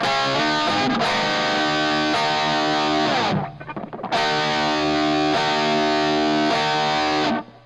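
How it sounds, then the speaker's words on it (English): Electric guitar played through an exciter effect that adds harmonics, giving a bright, dense, distorted tone. The strummed chords ring loud and sustained, with a short dip near the middle, and no one speaks. "through like an exciter, adding, harmonics to the original sound"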